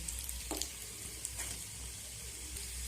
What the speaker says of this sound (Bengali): বন্ধুরা আমার এই নাস্তাগুলো ভাজা হয়ে গেছে